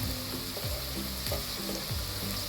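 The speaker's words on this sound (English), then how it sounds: "after frying it for at least 3 to 4 minutes, you can remove it from the oil" Capsicum frying in hot oil for an Andhra garlic green chilli chicken gravy, giving a steady close sizzle with soft utensil knocks and stirring scrapes recurring about every half second.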